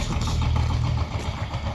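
A three-cylinder four-wheel-drive tractor drives past with a steady, loud low engine drone and a faint rhythmic pulsing throughout.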